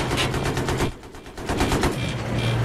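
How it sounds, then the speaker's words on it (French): Gunfire in the Battlefield 3 online multiplayer game, a loud rapid burst of automatic shots that stops briefly and then resumes as sustained rattling fire close by. "On s'est tiré dessus."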